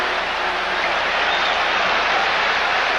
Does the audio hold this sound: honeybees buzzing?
no